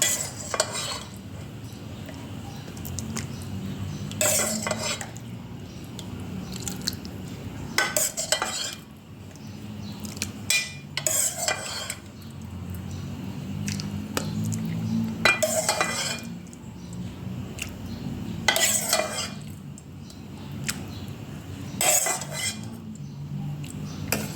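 A pumpkin dessert is scooped into a bowl: repeated metallic clinks and scrapes of a ladle against pot and dish come at irregular intervals over a soft, quiet background.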